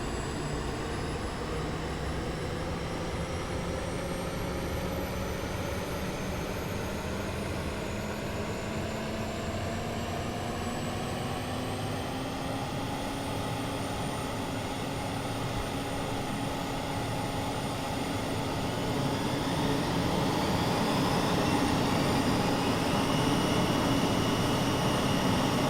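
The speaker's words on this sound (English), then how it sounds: "The APU's a little turbine engine tucked into the tail." An airliner's APU, a small turbine engine in the tail, spools up in Microsoft Flight Simulator, a steady whine rising slowly in pitch over a continuous engine drone, growing slightly louder toward the end with no talk.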